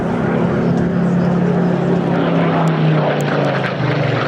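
A Spitfire propeller aircraft at an air show in Clacton-on-Sea, Essex, gives off a loud, continuous engine drone with a slowly shifting pitch, heard close and steady, with a few faint crowd sounds under it.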